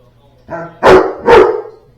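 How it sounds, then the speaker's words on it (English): A dog barks twice in quick succession, loud and close, after a softer lead-in whine, in a garage workshop during wheel repair work. "Sorry for the dog barking."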